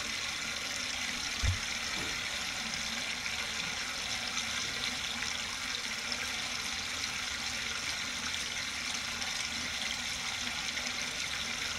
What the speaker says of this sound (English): So the water's flowing on both the top and the bottom.